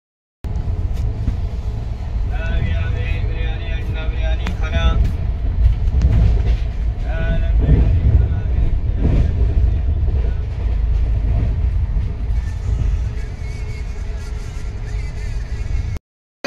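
A train rumbles and clatters steadily as it rolls into Asansol Junction station, a loud, continuous roar with metallic squeals over the top.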